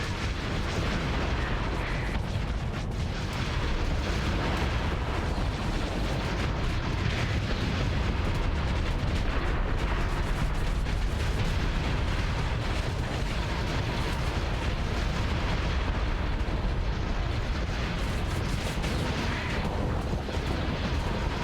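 Enemy ship weapons pound away in the space combat game Starsector, a dense, continuous barrage of booming blasts and crackling fire that stays loud and unbroken throughout.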